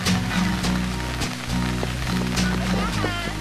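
Heavy rain pours in a steady, dense wash of drops, loud and continuous, with voices and tonal sounds mixed in.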